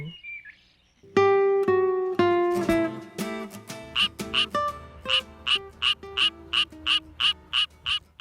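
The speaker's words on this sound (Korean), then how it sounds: "2020년 신종으로 보고된 노랑배 청개구리입니다" A yellow-bellied tree frog, a critically endangered species found around Iksan in Jeollabuk-do, calls loudly and close: a run of tonal croaks speeds up into about a dozen evenly spaced pulsing notes.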